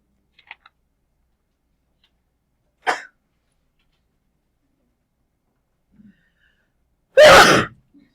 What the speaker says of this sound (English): I haven't perfected that quiet sneeze thing yet.